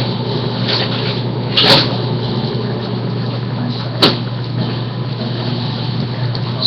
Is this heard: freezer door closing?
yes